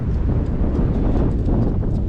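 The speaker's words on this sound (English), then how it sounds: "it is so freaking windy" Heavy wind buffets a microphone beside a 2008–2014 Subaru WRX, a loud, steady low-frequency rumble with gusty fluctuations throughout and no talking.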